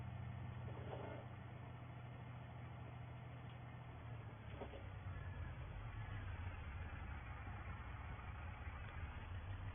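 A farm vehicle engine drones steadily while running in gear, a low, continuous, heavy rumble heard from inside the cab, with a slight shift in pitch partway through and no talk.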